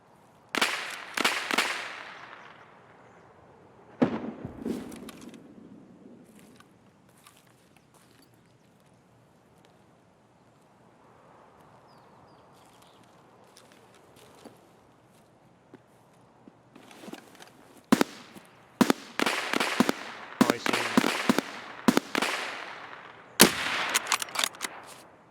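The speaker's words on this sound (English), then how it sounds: "Now let me roll the clips of the shots that I got on the woods" Gunshots on the Woods map of Escape from Tarkov: sharp cracks in short bursts and single shots, some rapid clusters, separated by quieter forest ambience, fairly loud and close.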